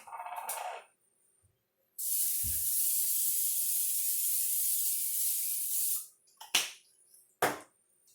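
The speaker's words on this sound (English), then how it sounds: "going to be spraying it with some olive oil." A steady spray hiss of olive oil from a spray bottle runs for about four seconds, preceded and followed by brief clicks and taps, with no talking.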